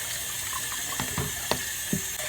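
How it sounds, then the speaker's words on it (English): Cooked tapioca pearls for Filipino taho are rinsed under running tap water, making a steady hiss with a few clinks and knocks from the sieve or container. "we are going to wash them before you eat them. So I'm just gonna rinse it real quick"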